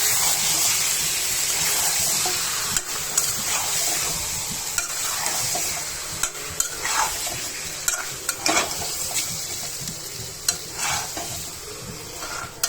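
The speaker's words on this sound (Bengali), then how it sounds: "চিকেনগুলো দিয়ে দিচ্ছি এখন নেড়ে ফেলে নেবো" Chicken pieces stirred and fried in a pan for a chicken kosha, with a steady close sizzle broken by repeated scraping and clattering knocks of the spoon throughout.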